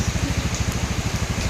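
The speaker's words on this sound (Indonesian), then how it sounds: "masih hujan cuacanya nih" Steady rain falls with a dense, even patter close by, a continuous hiss of drops on a surface with a faint rhythmic low thumping underneath and no voices.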